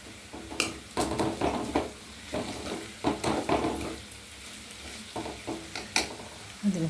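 Sliced onions sauté in oil in a pan for a Kerala fish curry, a soft sizzle broken by repeated scraping stirs of a spoon against the pan, fairly quiet and close.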